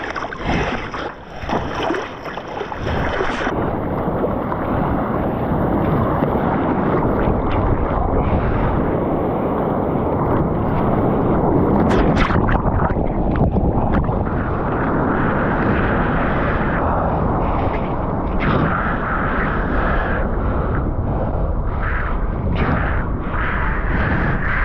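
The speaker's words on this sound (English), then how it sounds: "We're paddling out." Prone foil board being paddled out at dawn, with continuous loud water wash and splashing mixed with wind buffeting on the microphone, steady throughout with a few sharper splashes near the middle.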